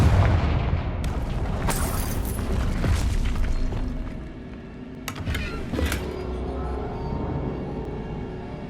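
A Confringo blasting curse goes off in Hogwarts Legacy with a deep booming explosion, followed by a few sharp crackling bursts and rumbling game effects.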